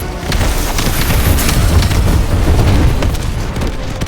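Naval bombardment of the Gulag in Call of Duty Modern Warfare 2, heavy rumbling explosions and booms rolling continuously at high volume with debris crackle, no speech.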